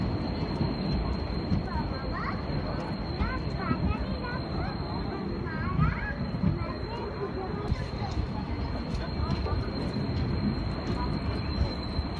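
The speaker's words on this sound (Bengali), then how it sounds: "প্রায় দেড় ঘন্টা লেটে আমাদের ট্রেন এসে পৌঁছলো পুরুলিয়া জংশনে" A train pulling into Purulia junction, its steady broadband rail rumble and wheel noise running continuously at moderate level, with a few faint squeals above and no talk.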